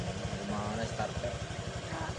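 A scooter engine starting and then idling with a rapid steady low putter, close and moderately loud, with a person talking over it.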